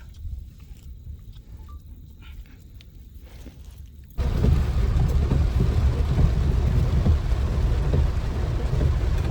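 Quiet ambience suddenly gives way to a loud, steady roar of heavy rain from about four seconds on, dense and continuous to the end.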